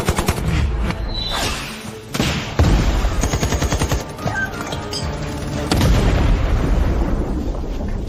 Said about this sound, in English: Submachine guns, sniper rifles, rocket launchers, Gatling guns, grenade specialists